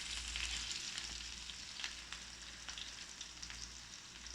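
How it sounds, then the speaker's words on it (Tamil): Sliced large onions and a small green chilli fry steadily in a pan of oil with fennel seeds, giving a continuous soft sizzle and crackle with no talking. "நல்லா போட்டு ஃப்ரை பண்ணணும்."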